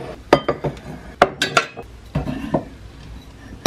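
Mugs, thermoses and bubble glasses clink and knock as they are set one by one onto a small mobile-home kitchen shelf, a close, irregular series of sharp ceramic and glass taps with short pauses between.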